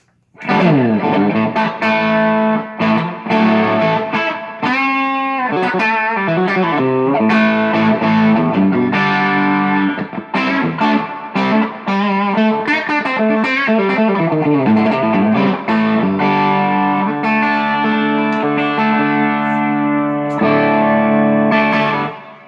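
An electric guitar played through its bridge pickup with heavy reverb rings out in sustained chords and single notes, full and continuous with no talking.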